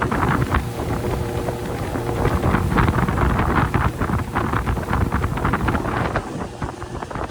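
A 17'5 Bay Craft skiff motorboat running on plane, its steady engine and hull rush heavily buffeted by constant wind noise across the microphone, with no talking.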